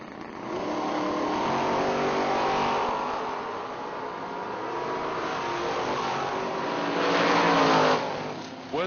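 A drag race pits an 1981 Pontiac T1000 against a 1969 Camaro, with loud, sustained engine roar from the racing cars rising and falling as they run, then swelling again toward the end.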